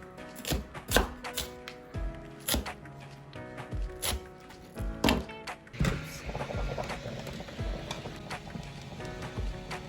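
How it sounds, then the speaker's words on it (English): A knife chops onions finely on a board in a home Italian kitchen, giving sharp irregular taps that cluster in quick bursts, close and fairly quiet, with light clatter between strokes. "Beginning to do the chopping, and onions will be the first, and I'll try and chop them fine."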